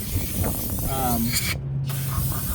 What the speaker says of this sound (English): I use a little bit of brake cleaner to get off the excess